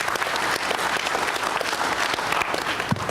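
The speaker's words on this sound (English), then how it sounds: "Thank you for the golf clap" Steady applause from a crowd at a ribbon-cutting ceremony, a continuous wash of claps with no voices over it, lasting the whole three seconds as a new speaker takes the stage.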